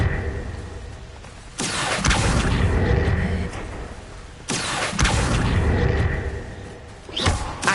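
Confringo blasting-spell explosions in Hogwarts Legacy, two loud booming blasts a few seconds apart, each with a sharp onset and a long rumbling tail, then a third burst starting near the end.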